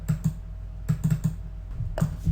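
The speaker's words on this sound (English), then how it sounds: "type in whatever you want to save it as" Quick bursts of typing on a computer keyboard, close and clear, with irregular clusters of keystrokes separated by short pauses and no talking.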